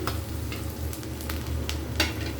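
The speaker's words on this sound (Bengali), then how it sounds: "রসুন এবং পেঁয়াজটা ভালো করে ভাজা হয়ে গেছে" Garlic and onion fry in hot oil for raw mango dal, giving a steady close sizzle with a few brighter crackles and stirring scrapes. No one speaks.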